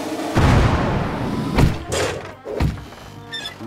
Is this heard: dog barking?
no